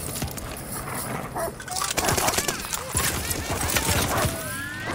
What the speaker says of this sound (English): Attack dogs inbound.